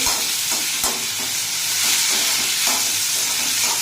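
Sago pearls sautéed in ghee for a javvarisi kesari sweet, giving a steady, fairly loud broadband sizzle with soft stirring scrapes, continuous and close with no voices.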